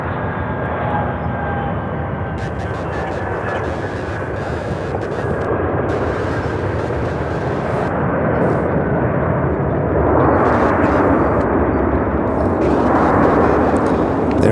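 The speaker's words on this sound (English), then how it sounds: "There's that 737." A Boeing 737 airliner at Charlotte-Douglas airport, its jet engines producing a loud, broad roar with a steady whine that swells and builds toward the end.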